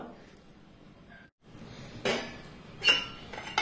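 A metal lid set onto a pot of oyster mushrooms in a kitchen, a couple of brief clinks and a clattering settle after a quiet moment.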